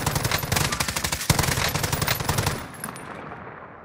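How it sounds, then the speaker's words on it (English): Rapid automatic gunfire in Call of Duty Warzone, a loud sustained burst of evenly spaced shots for about two and a half seconds, then fading to quieter scattered noise. "you're shooting"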